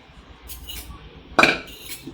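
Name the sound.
kadhai pan being handled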